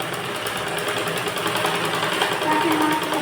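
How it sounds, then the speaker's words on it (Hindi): A sewing machine stitches thin blouse fabric at a princess-cut shoulder seam, giving a steady, close mechanical whir that runs unbroken throughout with a slight rise near the end. "इस तरह देखिए हमने थोड़ा सा सिलाई लगा लिया है"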